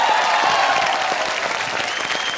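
Studio audience applause at a comedy show, a dense, steady wash of clapping that stays loud and continuous throughout, with no voices over it.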